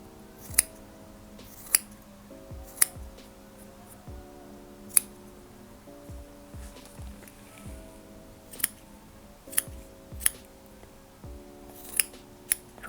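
Scissors trim a yarn pompom for a keyring, a series of crisp, close snips spaced irregularly, about a dozen in all. A soft melodic tune plays quietly underneath throughout.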